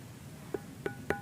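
Three separate metallic ringing strikes on a naturally resonant stone at Gunung Padang, evenly spaced, each with a bright resonant tone that lingers briefly; the pitches differ slightly, quiet background otherwise.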